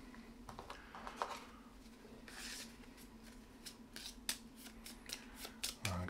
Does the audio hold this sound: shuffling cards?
yes